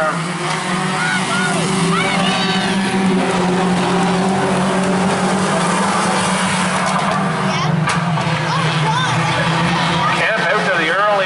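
Outlaw division race cars power around a track in a heat race, making a steady, loud engine drone for the whole stretch while an announcer talks over it.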